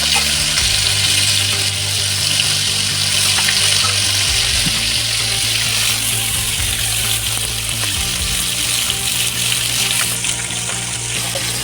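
A whole katla fish frying in a small amount of oil, a loud steady close sizzle and crackle continuing throughout without pause.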